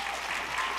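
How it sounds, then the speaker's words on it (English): An audience applauds steadily at an evening on-stage conversation event, dense clapping filling the short moment with no voices over it. "I think we're just gonna be clapping every time she speaks tonight"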